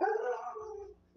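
Several dogs howl and whimper in a long, wavering, drawn-out whine that fades away, with a fresh yelp starting at the end, close by and fairly loud in an indoor room.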